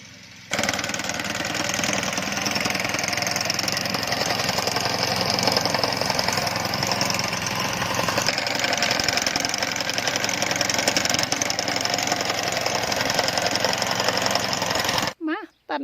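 A petrol grass-cutter engine drones continuously and loudly while mowing among old pine stumps, its rough, steady running holding for about fifteen seconds before cutting out abruptly at the end.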